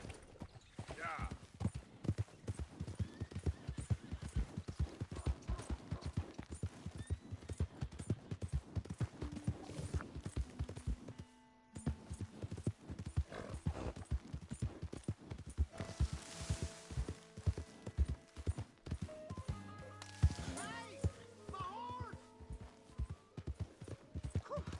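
Steady clip-clopping horse hooves at a walking pace in Red Dead Redemption 2 run through most of the clip, with occasional game effects and a brief pause midway.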